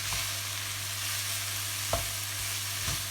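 Leeks sizzling in a pan over high heat, a loud steady hiss with a couple of brief stirring scrapes and a low steady hum underneath.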